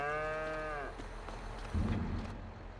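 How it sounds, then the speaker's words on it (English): Hungry cattle on a ranch, one cow giving a long, loud, low moo close by, followed by quieter shuffling and rustling noises and a brief thud. "Look at them hungry cows."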